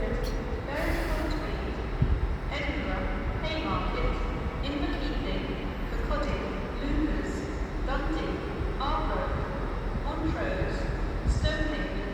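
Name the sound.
LNER train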